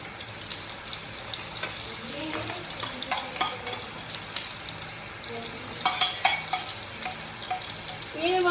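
Garlic sizzling in a pan of hot oil, a steady crackling fry with occasional stirring scrapes and light clinks, fairly close; faint talk may sit underneath.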